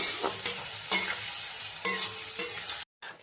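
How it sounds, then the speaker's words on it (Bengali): Tomato, salt, turmeric and red chilli masala frying in a pan, a steady close sizzle broken by several sharp stirring scrapes, ending in a brief silence before the sizzle resumes. "এবার মশলাটাকে একটু ভালো করে কষে নিতে হবে"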